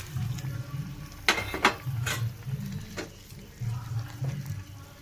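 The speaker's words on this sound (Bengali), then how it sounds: "যতটা পরিমাণে জল লাগে দিয়ে দেওয়া হলো। এরপর ফুটবে, তো মাছগুলো সব ঢেলে দেওয়া হলো।" Pata bairagi fish are tipped into boiling water in a cooking pot, making a few close splashy plops over a low, continuous bubbling hum.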